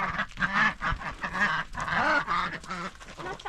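Several ducks quack continuously nearby, a busy overlapping chorus of loud, nasal calls.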